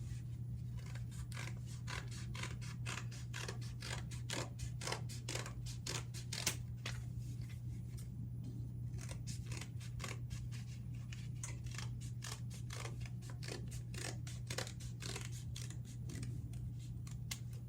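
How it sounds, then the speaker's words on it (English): Scissors snipping through a stack of folded paper: a long run of quick, crisp cuts at a steady pace, quiet and close, over a faint constant hum. "I am going to cut my paper, but I'm not going to unstack it or unfold it"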